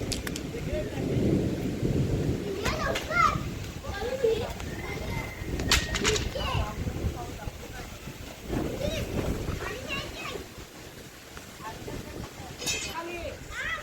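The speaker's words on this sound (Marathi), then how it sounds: "पाऊस पडायला सुरुवात झाला आहे बघा, केवढ्यानं पडतोय." Heavy rain starting to pour outdoors where mangoes are being sorted and packed, a dense steady hiss with possible distant thunder rumbles, and people talking throughout.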